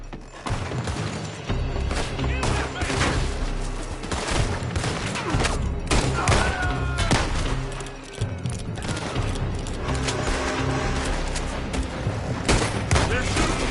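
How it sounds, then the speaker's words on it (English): Red Dead Redemption 2 shootout with rapid, continuous gunfire, sharp cracks and booming shots from several guns overlapping throughout, loud and close, with voices speaking intermittently amid the shooting. "They're shooting from that building."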